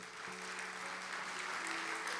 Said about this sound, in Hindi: उस नामुमकिनात के खुदा के लिए जोर से तालियां बजाएं